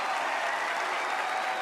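A studio audience at a hypnotist's stage show breaks into dense, continuous applause, many hands clapping evenly throughout at a moderate distance.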